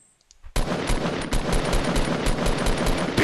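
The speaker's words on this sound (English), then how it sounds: "I shot him a good amount of times, Laza." Rapid, loud automatic gunfire in Fortnite, a dense continuous burst of shots starting abruptly after a brief quiet moment and running to the end.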